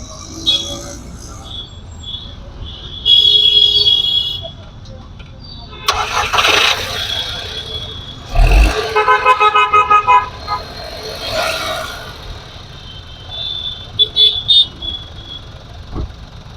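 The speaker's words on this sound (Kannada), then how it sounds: "ಬನ್ನಿ ಹಂಗೆ ಸ್ಟಾರ್ಟ್ ಮಾಡಿನೂ ತೋರಿಸ್ತೀನಿ ಹೆಂಗಿದೆ ಅಂತ ಸೌಂಡು" A 2011 Skoda Fabia petrol car in very good condition cranks and starts up, with several bursts of cranking and revving close by, a horn-like toot, and a person talking between the engine sounds.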